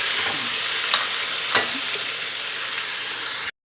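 Marinated pork hitting a pan of browned garlic and onion, a steady loud sizzle with a few sharp stirring scrapes partway through, ending abruptly.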